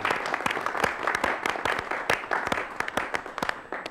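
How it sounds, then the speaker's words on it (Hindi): Audience clapping for students and a guest, a loud burst of many hands with sharp, irregular claps throughout, close and unaccompanied by speech. "आप लोगों के लिए आपकी तरफ से ज़रा तालियां हो जाएं और सर के लिए भी।"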